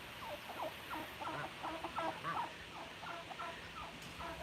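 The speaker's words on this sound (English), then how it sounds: "There's my big turkey." A turkey on a rural South Dakota farm gobbles in a rapid, repeated burst of warbling calls, fairly close and clear against a faint outdoor background, with no talking.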